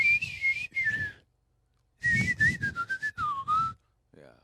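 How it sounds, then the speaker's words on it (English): Someone whistles a short melody up close, in two bursts of sliding and stepping notes separated by a brief pause. "I'm just making a melody. I'm whistling like playing a sax."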